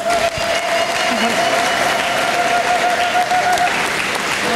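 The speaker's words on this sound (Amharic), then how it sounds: "ለጌታ ከፍ ያለ እልልታና ጭብጨባ አምጡ" A church congregation claps steadily and loudly for God, the applause filling the space without pause, with a faint sustained tone running beneath it.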